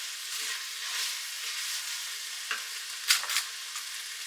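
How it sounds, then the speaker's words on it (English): Garlic sizzles softly at the bottom of an Instant Pot, a faint steady hiss with a few light stirring scrapes and one brief sharper clack partway through. "it lets the garlic cook a little bit without burning"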